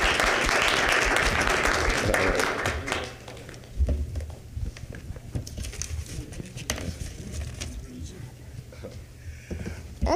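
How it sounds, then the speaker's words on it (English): A lecture audience applauds a panel, the clapping loud and full for the first few seconds, then thinning into scattered claps and murmuring voices that continue faintly to the end. "let's give our panel a round of applause"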